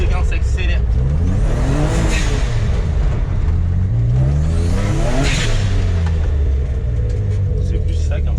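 A BMW 325i with a bi-turbo engine, loud and close, revs up twice in rising and falling sweeps over a constant heavy rumble.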